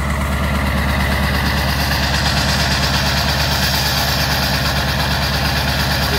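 A 2001 Ford E450 Super Duty with a 7.3 Power Stroke diesel idles after a cold start, a steady loud low rumble with fast rhythmic clatter, close and continuous without speech.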